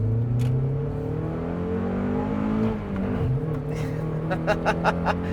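A 1991 Mazda Miata's engine revs up and down close by, a smooth rising and falling whine that dips near the middle, then short sharp throttle blips at the end.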